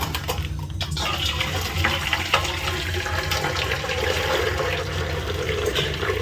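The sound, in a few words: water being drained out of a cooking pot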